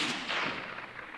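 A single shot from a Sabatti Urban Sniper rifle fired outdoors, a sharp broadband crack that fades into a long rolling echo lasting about a second.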